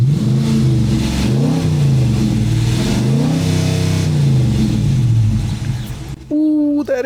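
A Dodge Challenger R/T with the windows down revs repeatedly, its loud deep burble swelling and dropping, then cuts off abruptly near the end as a brief voice is heard.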